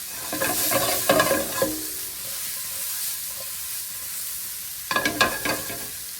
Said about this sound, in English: they're starting to brown nicely